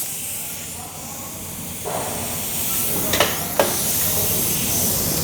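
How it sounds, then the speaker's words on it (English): Air chuck pressurizing a spray container of Mopar fabric protector, a steady hiss of rushing air with a couple of short, sharper bursts as the chuck is pressed, close and alone. "And then we will pressurize the container with an air chuck."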